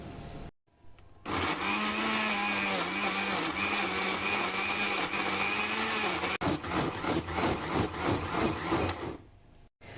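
An electric mixer grinder whirs loudly and steadily as it grinds garlic, chillies and tomatoes with water for about eight seconds, starting abruptly with a short pause partway through before stopping.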